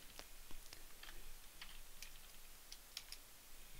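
Quiet, close typing on a computer keyboard as a command is entered, a light irregular patter of key clicks with a couple of sharper taps, no speech.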